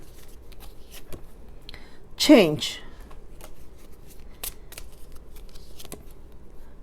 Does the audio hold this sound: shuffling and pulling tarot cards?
yes